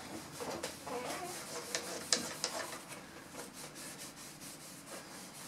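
Wood stain being rubbed evenly onto a medicine cabinet, a soft, steady scrubbing and swishing texture with a few small taps, quiet and close, no talking.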